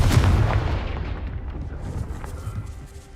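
Confringo blasting spell from Hogwarts Legacy, a single loud booming blast at the start with a deep rumbling tail that slowly fades over the next few seconds.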